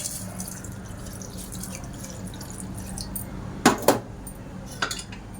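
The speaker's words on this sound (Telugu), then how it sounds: "ఒక హాఫ్ గ్లాస్ వాటర్ అయితే వేసుకోండి. ఈ గ్లాస్తో హాఫ్ గ్లాస్ వేసుకోండి, సరిపోయిద్ది." Half a glass of water goes into a pot of mutton head curry with turmeric, giving a couple of brief, close splashes and drips over a low kitchen hum.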